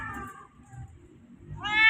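A former stray cat meows twice, close and clear, with a quiet gap between the calls and no talk over them.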